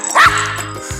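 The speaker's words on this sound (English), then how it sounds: "Quit bark. No. No bark." A dog barks in short, close yips and a bark, loud and alone with no talk over it.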